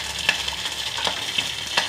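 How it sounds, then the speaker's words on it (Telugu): Red chillies fry in oil in a pan for coconut chutney, a steady close sizzle with a few sharper crackles and stirring scrapes spread through the two seconds, no voices. "ముందుగా మిరపకాయలు వేయించుకోవాలి"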